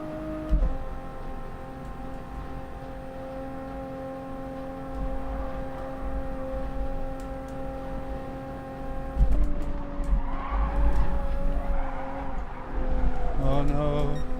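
A Toyota Supra race car in Gran Turismo Sport, Group 4 at the Nürburgring, drones with a steady engine note that shifts near the middle, then rises with tire and revving noise, alone and continuous.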